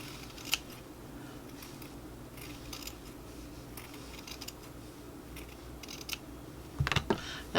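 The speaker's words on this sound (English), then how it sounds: "So I'm just gonna go around the edges, cutting out my circle." Scissors snip around the edge of a circle of wool felt, with soft quiet cuts through most of the stretch and a sharper cluster of snips near the end, close by and with no talking.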